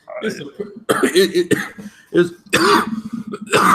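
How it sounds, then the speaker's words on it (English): A few short, harsh coughs break up a man's speech, close to the microphone. "I'm still fighting this damn cough"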